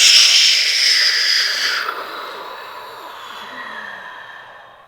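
A long, deep exhale during a meditation breathing exercise, a loud airy hiss at first that gradually fades and softens over several seconds, heard alone without speech.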